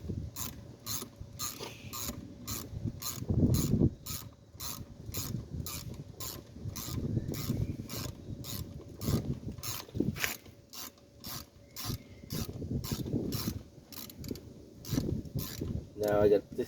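Ratchet tightening 9/16 bolts on the brakes of a 2009 Ford Fusion during a rotor and pad job, a long run of rapid, evenly spaced clicks with brief pauses, close up, with a man muttering now and then.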